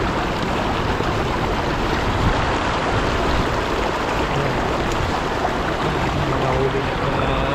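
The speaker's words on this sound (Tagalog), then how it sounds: "tunog ng nagaslas ng tubig" Water rushing and lapping over rocks on a rocky shoreline where mussels cling, a continuous loud wash of splashing and gurgling close by with no clear pauses.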